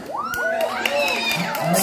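A crowd cheers and whoops for a contestant at a local male pageant in Pozorrubio, Pangasinan, with shrill voices rising and falling over steady clapping, loud and continuous throughout.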